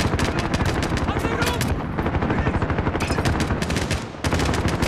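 Rapid automatic gunfire in the video game Modern Warfare rattles almost nonstop in dense bursts, loud and close, with brief pauses between strings of shots.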